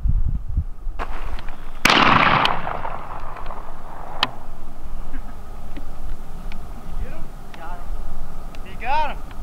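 A 12 gauge shotgun fires a single sharp blast outdoors during a rabbit hunt, the report booming and then decaying over the next second or so, with people talking around it.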